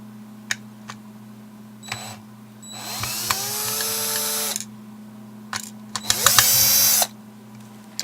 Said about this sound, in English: we're going to take the screwdriver and open these 2 screws